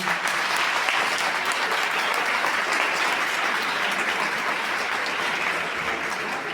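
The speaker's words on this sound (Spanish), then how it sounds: "Recibámoslos con un fuerte aplauso." Loud, dense applause from a school audience greets a teacher and a tenth-grade student taking the stage as event hosts, a sustained unbroken roar of clapping at close range.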